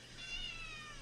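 A house cat gives a single drawn-out meow, fairly faint and slightly distant over a low background hum.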